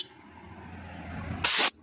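Air is blown through a one-way valve from a Toyota Dyna 130HT diesel engine, producing one short, loud hiss near the end after a low background murmur.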